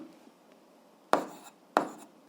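Two quick, scratchy handwriting strokes on paper, close and quiet, during a school physics lesson, each a short rasp with silence around it.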